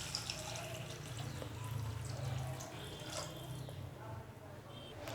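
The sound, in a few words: water poured into pan for rava upma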